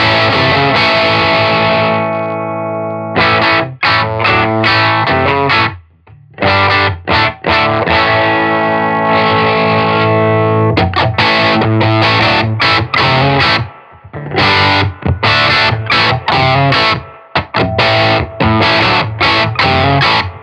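A guitar plays through the heavily driven second channel of a Silktone Echonaut 8-watt amplifier, loud and distorted, with sustained chords and choppy riffs broken by brief silences.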